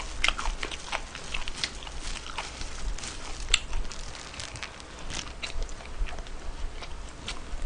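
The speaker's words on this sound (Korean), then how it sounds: "오돌뼈 먹어보고 싶었는데, 오늘 드디어 먹어보네요" Odolbyeo, crunchy pork cartilage, being chewed close to the mic, with continuous wet crunching and biting sounds in an uneven rhythm and no talk.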